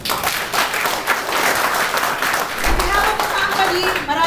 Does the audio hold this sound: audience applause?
yes